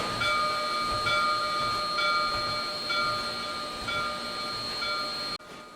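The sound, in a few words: steam locomotive moving slowly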